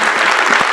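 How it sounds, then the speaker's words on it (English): A round of applause for Adam Goers at a medical cannabis gathering in New York, a steady wash of clapping from the audience filling the short moment at close range. "round of applause."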